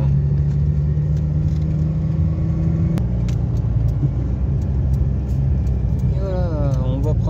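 A car engine drones loud and steady while driving on a road as the driver shifts into third gear, with a noticeable shift in the engine note midway and a rising whine toward the end. No one speaks.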